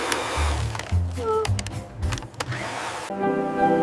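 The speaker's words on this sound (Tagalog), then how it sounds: "I use a hair dryer to dry my hair." A hair dryer blowing close by, its steady airflow shifting and mixing with a few tonal hums over about four seconds.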